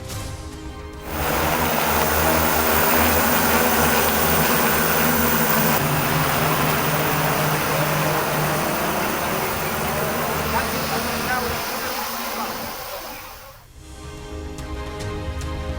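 A steady, buzzing motor drone hums loudly for over ten seconds from a flying drone delivering food to flood-stranded people, then fades briefly; voices murmur faintly beneath.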